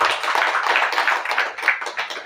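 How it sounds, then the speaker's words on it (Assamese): A church congregation claps together in thanks to God during a service. The clapping is loud, close, dense and continuous for the whole stretch, with no voices over it. "তালি বজাই ঈশ্বৰক ধন্যবাদ"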